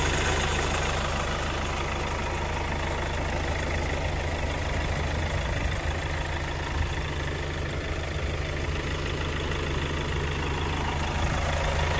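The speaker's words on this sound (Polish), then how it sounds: "Jednostka pracuje cichutko," A Hyundai i40 wagon with a 1.7 CRDI diesel engine idles steadily and evenly, producing a continuous close mechanical hum with no speech.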